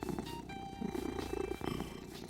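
A cartoon creature from Steven Universe purrs like a cat, a soft, steady rumbling purr that is faint and continuous, with no talking over it.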